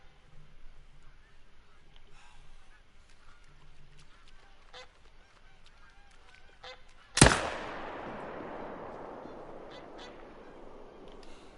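A single sharp, loud gunshot cracks out partway through a whitetail deer hunting video game, its echo trailing off over a steady bed of faint goose-like honks and bird calls.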